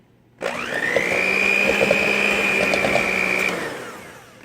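Electric mixer or blender whirring through gluten-free keto pie crust ingredients, a loud steady whine that starts suddenly, holds for about three seconds and winds down.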